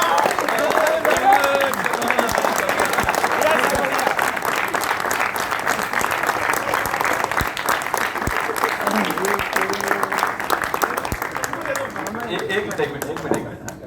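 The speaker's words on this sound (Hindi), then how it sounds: "इनके लिए जोरदार ताली हो जाए दोस्तों।" An audience bursts into loud, dense applause, many hands clapping continuously for about fourteen seconds with faint crowd chatter mixed in, thinning slightly near the end.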